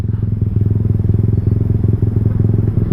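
A Honda Vario scooter with a faulty IACV sensor idles too fast, its engine throbbing in a rapid, even pulse close by and loud, with no voices.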